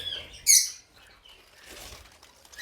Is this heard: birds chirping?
yes